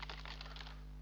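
A sudo command is typed on a computer keyboard as a quick, faint run of clicking keystrokes over a low background hum.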